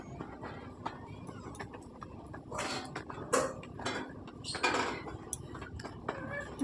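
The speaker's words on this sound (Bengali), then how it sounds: "কফি পাউডারটাকে আমি ভালো করে গুলিয়ে নেব, যাতে ভালোভাবে মিশে যায়।" Coffee powder being stirred into milk, egg and biscuit in a bowl for caramel pudding, heard as a few scraping, clinking strokes of a spoon against the bowl over a quiet background.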